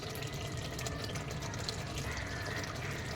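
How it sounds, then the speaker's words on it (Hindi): A little water splashes and trickles steadily into egg curry masala for a Maharashtrian-style ande ka salan, a continuous close pour with a soft liquid hiss. "इसमें हम थोड़ा सा पानी डालकर"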